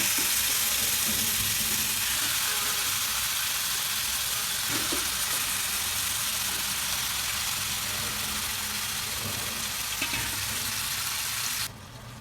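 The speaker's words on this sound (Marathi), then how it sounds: "तेल चांगलं गरम होऊ द्यायचं आणि त्याच्यामध्ये मॅरिनेट केलेलं चिकन टाकून द्यायचं" Marinated chicken for green hariyali chicken frying in hot oil, a loud, steady close sizzle that holds for several seconds with occasional faint knocks, then drops off sharply at the very end.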